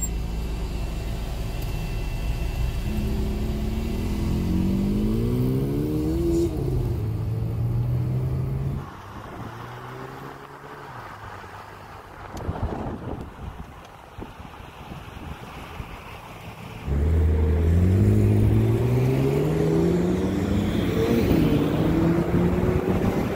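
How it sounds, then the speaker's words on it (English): A Chevrolet Corvette Z06 prototype, the high-performance version, passes on the road with a rising and falling exhaust note, loud as it nears, dropping away mid-clip, then returning strong with heavy wind noise throughout. "let's actually hear the exhaust right now"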